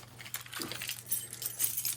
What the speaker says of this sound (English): I got a big, gigantic wad of keys.